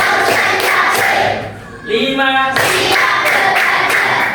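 An Indonesian primary-school class claps in a counted rhythm, loud sharp bursts of clapping broken midway by a short shouted count from a voice before the clapping resumes.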